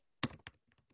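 A few quick taps on a computer keyboard, two firm keystrokes followed by several lighter ones, close and clear in a quiet room.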